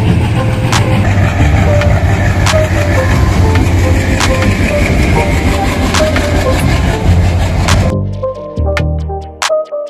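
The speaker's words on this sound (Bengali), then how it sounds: "আর এখন কিন্তু শিলিগুড়ির উদ্দেশ্যে ট্রেনটি ছেড়ে দিয়েছে।" A train pulls out of Gazole railway station bound for Siliguri, a loud steady rumble of wheels and engine with clanking through most of the stretch, then dropping to sparse metallic clicks and knocks near the end.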